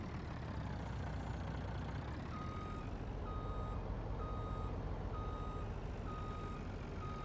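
Truck reversing beeps in the video game Farming Simulator 19, set in Western Australia: a steady series of evenly spaced electronic beeps repeating over a continuous low engine idle, with no talking.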